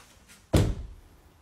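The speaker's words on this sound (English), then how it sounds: "Just going to open the door and I've come into this." A house door is opened with a single sharp thunk close by, followed by a brief low rattle and then quiet room tone.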